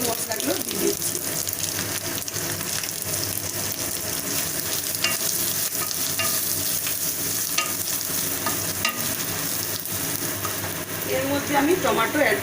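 Ground spices sizzle steadily as they fry and get stirred in a pan for a Bengali banana-flower curry, a continuous close crackle with a brief burst of running water near the end.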